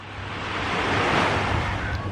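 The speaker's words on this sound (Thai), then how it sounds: "พาเทียเตอร์มาเที่ยวทะเลดูน้ำทะเลนะครับสวยมากเลยทะเลสวยมากเลยครับ" Sea waves wash onto the beach at Hat So, a steady, loud broadband roar of surf that swells gently and holds throughout, with no voices.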